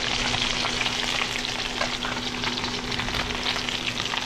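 Kabasi and sapsap fish fry in hot oil in a pan, giving a steady, close, dense sizzle and crackle that holds at an even level throughout, with no talking.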